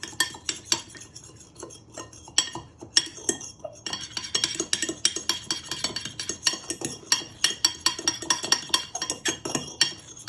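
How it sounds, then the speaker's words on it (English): Fork whisking eggs in a bowl, a rapid run of clinking metal-on-bowl strokes that starts sparse and settles into a fast, steady rhythm, close and fairly loud, with no talking. "So you're just whisking all your eggs together."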